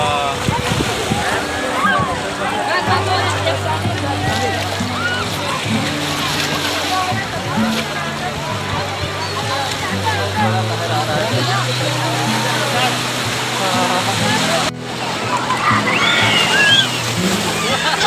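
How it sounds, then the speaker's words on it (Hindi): Big sea waves surge and crash against the shore at Haji Ali Dargah in Mumbai, a steady, loud wash of splashing water and wind, with people talking over it throughout. "गाइस देखो लहर आ रहा है, बहुत जोरदार आ रहा है लहर।"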